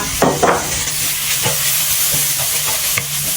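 Pork hitting hot oil in a pot for an Isan bamboo-shoot dish, sizzling steadily, with a few stirring scrapes and clacks scattered over the constant fry.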